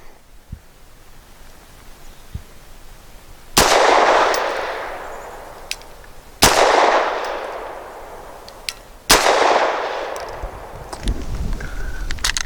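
Three loud, close Walther P5 pistol shots spaced a few seconds apart, each a sharp crack with a ringing tail that decays over about two seconds, over quiet background.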